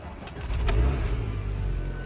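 A Porsche's engine starts and settles into a steady, loud idle rumble close by, a brief rise in the middle then an even hum to the end.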